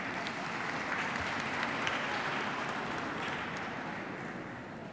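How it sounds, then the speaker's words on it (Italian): Sustained audience applause after a reading event, a dense even wash of many hands clapping at moderate distance, steady throughout and tapering slightly at the end with no voices. "Applauso, applauso."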